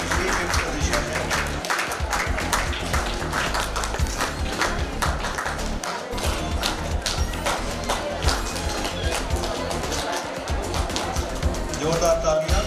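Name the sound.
audience applause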